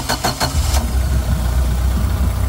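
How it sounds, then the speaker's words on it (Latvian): A boat motor cranks with a few sharp starter bursts, started without a key, then catches and settles into a steady low idle rumble, close and fairly loud. "Motors iedarbojās"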